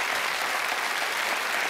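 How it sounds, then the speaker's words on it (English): A big, dense round of audience applause at a magic show, steady and loud throughout, with no voices over it. "the audience will give you a big, big, big round of applause"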